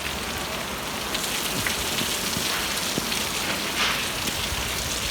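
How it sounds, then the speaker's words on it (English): Steady, heavy rain pours down, a dense hiss with scattered drops pattering on nearby surfaces, continuous throughout with no voices. "it's not raining quite as hard as I would actually like it to be"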